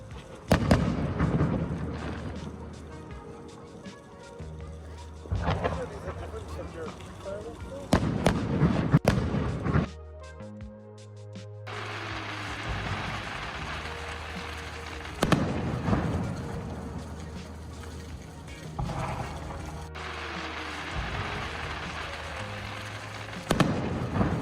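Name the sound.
4th of July fireworks show exploding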